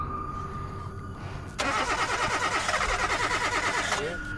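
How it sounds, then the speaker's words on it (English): A woman's car cranks for a few seconds after a brief pause but does not catch. The starter churns loudly and rhythmically, up close, over a low background hum. "each time the woman attempts to start her car"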